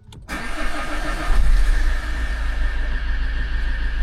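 Opel Zafira 1.9 CDTI diesel engine cranks briefly and catches, settling into a loud, steady close-up idle rumble with no talking.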